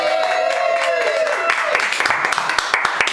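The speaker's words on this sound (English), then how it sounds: "I think we should give a round of applause to our gracious hosts, Whitey and John Perry" Guests at a 50th birthday party and roast break into clapping for the hosts, starting under a speaking voice and growing into a scattered round of applause.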